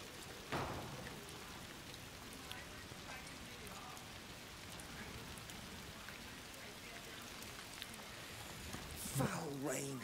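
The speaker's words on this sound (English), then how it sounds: "Foul rain." Foul rain falls in the Plague Tale Requiem game world, a soft, continuous patter that stays faint and even beneath the scene, with a brief voice-like burst near the end.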